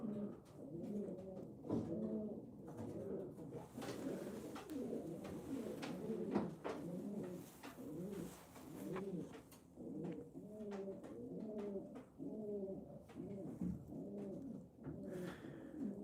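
Racing pigeons coo steadily in a loft at late night, a dense, continuous chorus of overlapping low rolling calls with small knocks and rustles mixed in throughout.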